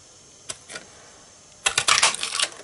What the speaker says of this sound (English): we're going to cut this out using this one called the Umbrella Builder Punch